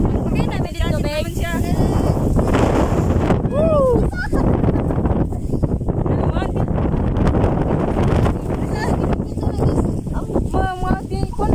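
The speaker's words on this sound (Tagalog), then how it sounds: "Sobrang lakas po ng hangin." Strong wind on a cold, foggy highland in the Philippines buffets the microphone continuously, a loud roaring rush with people talking and exclaiming over it throughout.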